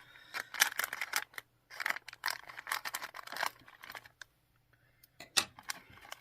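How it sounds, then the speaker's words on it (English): Small metal scissors being handled up close, with irregular clicks and rustling snips in quick bursts, a short quiet pause, then a few more sharp clicks. "tiny scissors."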